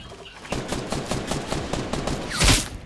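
Rapid burst of gunfire from Fortnite Battle Royale, a string of close, sharp shots in quick succession ending in a louder blast.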